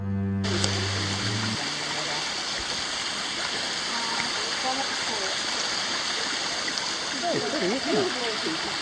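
Gurgling stream water flows steadily in the background in a rainforest in the morning, close and continuous, with birds chirping faintly over it.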